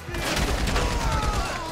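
Rapid bursts of gunfire in Grand Theft Auto 5, a dense, sustained barrage of shots filling the whole moment at steady loudness, with no talking over it.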